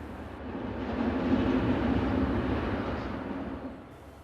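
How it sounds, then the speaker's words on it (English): Locomotive 241801 hauls a train from Aachen over the west end of a modernised bridge. A rolling rumble swells to a broad peak, then slowly fades, heard from a moderate distance. "241801 is seen here with a train from Aachen running over the west end of the bridge"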